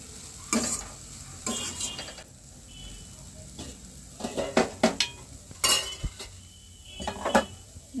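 A spoon stirs multigrain sprouted soup ingredients frying in a pan, with repeated scraping strokes against the metal over a steady low sizzle and no talking.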